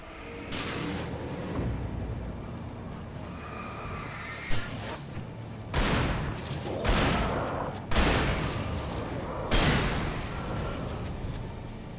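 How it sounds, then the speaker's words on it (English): Pump action shotgun fire in the video game Alan Wake: several heavy booming blasts with rumbling tails, spaced a second or two apart over a steady game soundscape. "With shotgun to pump action shotgun."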